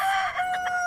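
A rooster crows in a short, bright burst with a steady tonal line and a couple of pulsing peaks near the end, close and alone with no other sounds.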